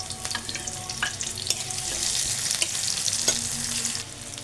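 Chopped onion and a dried chilli frying in mustard oil make a steady, close crackling sizzle, with occasional stirring scrapes and a few sharp pops, with no one speaking.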